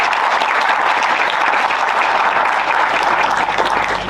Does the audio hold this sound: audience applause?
yes